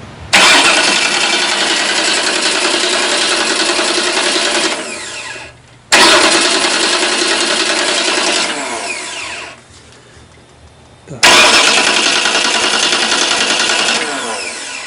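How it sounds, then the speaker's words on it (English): A kit car engine starter whirs loudly in three long cranking bursts of several seconds each during a spin test after clutch installation, cutting off abruptly between them, close and steady. "we're just going to spin test the engine to make sure the starter engagement is perfect"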